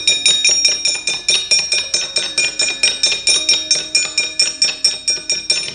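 Javanese gamelan playing, a loud, steady pulse of struck metallic bell tones, each ringing briefly before the next in an even, repeating rhythm, with no talking.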